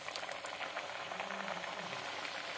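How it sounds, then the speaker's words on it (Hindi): Cauliflower kachoris deep fry in hot oil over a low flame, giving a dense, steady bubbling sizzle, close and continuous throughout, with no voices. "लो फ्लेम पर अब एक एक करके हम कचौड़ियों को फ्राई करेंगे।"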